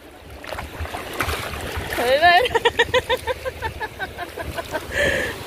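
Big waves roll in at a beach in Bintan, Indonesia, their surf washing and splashing close by. Excited voices talk and shout over the water throughout.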